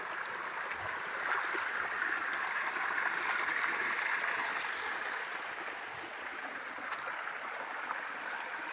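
A very small stream flows at a buried rock site outdoors, giving a steady, even wash of running water with faint gurgles and no clear voices.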